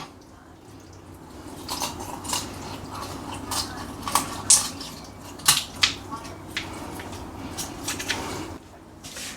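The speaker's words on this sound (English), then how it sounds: "we're going to cut right down the backbone with the scissors" Kitchen scissors snip through a raw chicken's backbone, giving a string of sharp, irregular crunching cuts close by over quiet room noise.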